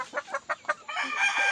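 Backyard chickens cluck in a quick series of four short calls, then give a longer drawn-out cry, fairly close and alone without talk.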